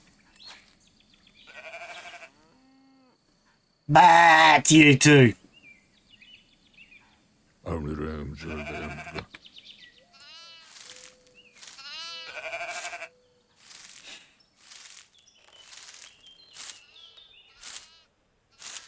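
Sheep bleat repeatedly, loud close calls alternating with shorter fainter ones, with brief quiet gaps between; a voice speaks briefly.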